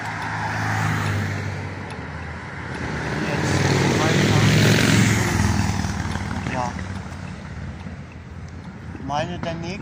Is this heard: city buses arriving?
yes